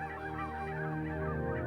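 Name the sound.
flocks of ducks, geese and swans calling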